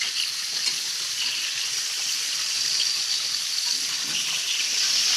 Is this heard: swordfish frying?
yes